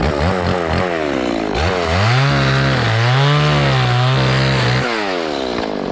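A chainsaw cutting through a papaya tree roars loud and close without a break, its engine pitch rising and falling as the chain bites into the soft trunk.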